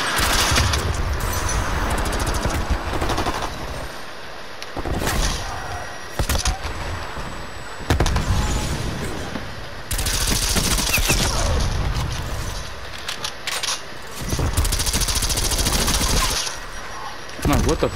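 Video game gunfire comes in repeated loud bursts of rapid automatic shots separated by brief pauses, close and harsh, with occasional talk in between.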